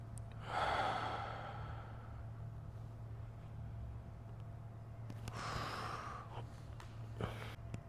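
Slow, deep breathing made deliberately audible during a calm relaxation exercise. Two separate airy breaths are heard, each drawn out and soft, over a faint steady hum in a quiet room.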